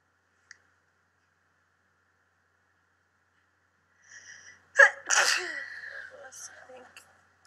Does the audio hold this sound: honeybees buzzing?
no